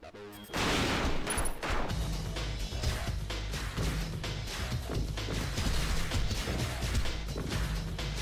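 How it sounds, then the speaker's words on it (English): Enemy machine guns in the PSP game Rengoku: The Tower of Purgatory fire in dense, loud, continuous bursts after a short quiet start, hammering on for several seconds without a break. "Those machine guns are freaking brutal,"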